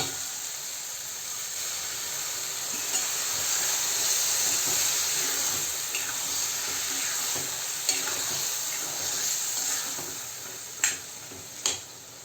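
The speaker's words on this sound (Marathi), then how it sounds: "थोड्याशा पाण्यामध्ये आता आपण हे वांगं शिजवणार आहोत" Brinjal cooks down in masala with just a splash of water, giving a steady soft sizzle and hiss of steam, with a few sharp clicks from a pan or lid near the end.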